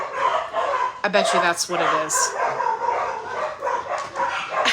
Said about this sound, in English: now that I'm live, they're gonna be barking